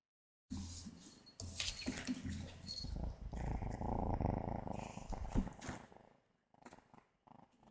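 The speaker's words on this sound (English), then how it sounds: "I wanted you to hear him purring when I picked him up." A close, steady low rumbling purr from a cat held near, continuing for several seconds with some rustling, then trailing off.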